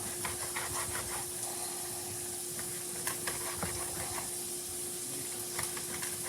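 Bacon and onions start cooking in a pan with a steady sizzle and hiss, broken by light stirring scrapes and occasional pops, under a constant high-pitched whine.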